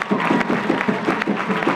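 Brief, lively applause for the Club Deportivo Melaria football team, dense clapping from a crowd at close range with an even, sustained texture.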